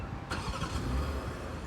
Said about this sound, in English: Engine starts right up without having to get inside.